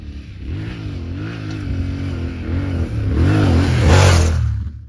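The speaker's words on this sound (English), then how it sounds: "when you're riding these big bikes in deep sand, this is your main issue" A big adventure motorcycle labours through deep sand, its engine droning and revving up and down close by, swelling louder toward the end.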